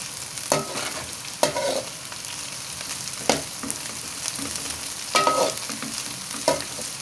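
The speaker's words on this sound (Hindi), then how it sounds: "अब हम इसमें सब्ज़ मिर्च डाल देंगे और इसको 1 से 2 मिनट के लिए फ्राई करेंगे।" Green chillies fry over a high flame in a pan with sautéed onions, giving a steady sizzle broken by several scraping stirs of a spoon, close and without speech.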